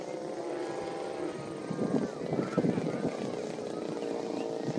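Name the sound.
airplane flying after candy drop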